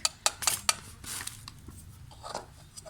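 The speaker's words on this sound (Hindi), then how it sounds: "दूध में ये मैदा डाल के इसे अच्छी तरह मिक्स करना है" A whisk or spoon clinks and scrapes rapidly against a bowl while flour and cornflour are mixed into milk, quick bright metallic taps in short bursts that then soften into quieter stirring.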